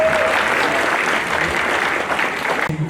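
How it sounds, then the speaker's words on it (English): Loud, sustained applause from an audience at a college freshers' welcome ceremony as the newcomers walk to the stage, a thick continuous clapping that cuts off abruptly near the end. "let's give a round of applause to our freshers as they come to the stage."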